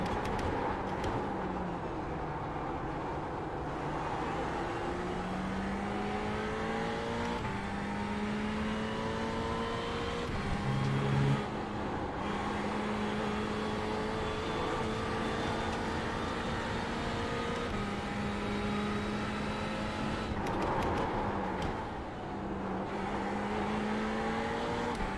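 Race car engine in fifth gear during a winter VLN endurance race, recorded from inside the car, droning loudly and steadily with rising pitch sweeps through long accelerations and brief dips at gear changes, no talk.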